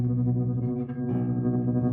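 Guitar played through a piezo pickup with effects, a sustained, dense and slightly distorted tone with a hard edge, steady and close.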